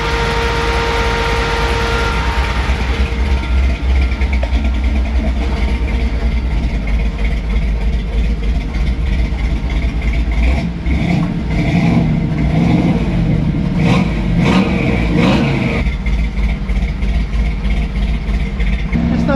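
SPAL electric radiator fan on a C10 pickup truck with a Cold Case radiator, running loud and close: a continuous rushing whoosh over the engine's low rumble, steady throughout.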